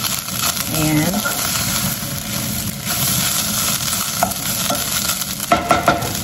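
Chicken browning in a frying pan for a creamy carbonara, a steady close sizzle with spoon stirring and scraping, a few metallic clinks near the end.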